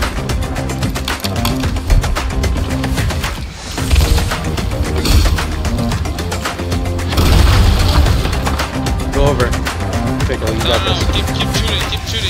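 Repeated cannon fire at an enemy ship in the game Sea of Thieves, heavy booms and crashes layered over constant game noise and splashing, dense and loud, with players talking over the action.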